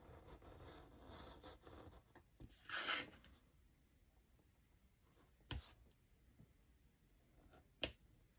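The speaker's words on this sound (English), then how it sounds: "use this X-Acto knife and cut that" An X-Acto knife slices through paper in faint, soft scraping strokes, with one brief louder rasp near the middle and a couple of sharp clicks, in an otherwise quiet room.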